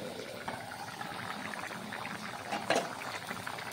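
Rajma simmers in a covered pot over a high gas flame, giving a soft, steady bubbling. It stays faint and even, with one slightly stronger gurgle near the end.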